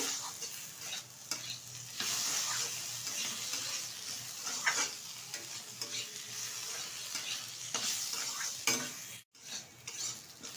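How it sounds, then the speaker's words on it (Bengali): Gobindobhog rice, salt and ginger paste are stirred with spices in a hot pan, a continuous close sizzle broken by scraping spoon strokes and a few metallic taps, with no voices. "এবার ভালোভাবে কিন্তু এর সাথে আমি একটু নেড়ে চেড়ে নেব।"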